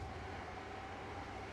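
A train rumbling in the Rail Sim Universe railway video game, a steady low mechanical drone with a faint hum, continuous and unbroken, heard alone without talk.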